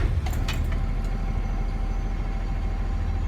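A 2010 Thomas Saf-T Liner C2 school bus engine runs steadily after start-up, a loud, even low rumble with a few brief clicks early on.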